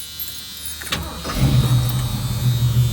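A 1972 Ford Mach 1 engine cranks and catches after a quiet moment, then settles into a steady, close, rumbling idle, with no talking.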